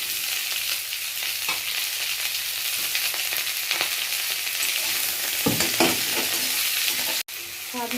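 Potato and onion stirred and fried in a pan, with a steady broadband sizzle throughout and occasional scraping stir strokes, close and continuous, dropping out briefly near the end.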